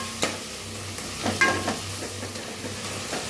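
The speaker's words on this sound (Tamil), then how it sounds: "தக்காளி நல்லா வதங்கிட்டுருங்க." Tomatoes sautéing in a pan with a steady low sizzle, broken by a few scraping stirs of a spoon against the metal, close and fairly loud with no talking.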